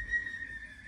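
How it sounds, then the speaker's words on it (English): A child whistles a steady, sustained high tone in the background, faint and continuous for about a second, with no talking over it. "If you can hear the whistle in the background"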